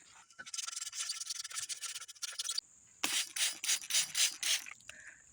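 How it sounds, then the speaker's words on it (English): Rough horsetail (Equisetum hyemale) stems scrubbed hard against a crusty fire-pit cooking pot, giving loud rasping strokes in two bursts: a steady run of scraping, a brief pause, then several distinct rhythmic scouring strokes. "Let's put it to the test with this crusty pot that I use over my fire pit."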